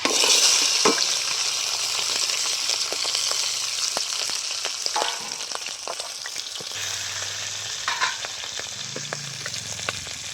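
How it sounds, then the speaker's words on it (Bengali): Small crabs fry in hot oil in a wok with a steady, loud, close sizzle, broken by occasional stirring scrapes and taps, with no voices. "আর খুব ভালো করে আমি কাঁকড়াটা ভেজে নেব।"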